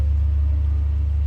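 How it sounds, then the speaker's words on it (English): A passing truck outside a house, a steady low rumbling engine drone that stays loud and even throughout, with no voices over it. "It's another truck."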